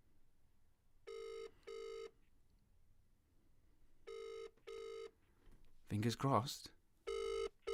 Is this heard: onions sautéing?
no